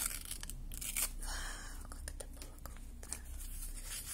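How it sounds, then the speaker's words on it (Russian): Crisp paper rustling and tearing with several sharp snips and crinkles, close up, in short bursts over a quiet room. "давайте этот пакетик аккуратненько откроем"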